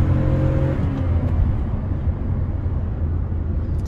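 A modified Daihatsu car accelerates from 3000 RPM up a slight incline on an empty road, a deep, close engine rumble and drivetrain whir heard from inside the car.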